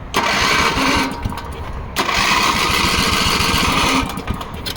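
A Toro Big Red rototiller's small engine cranks and catches in repeated loud bursts, each surge settling into a rough, throbbing run before dipping and revving again, close by with no talk.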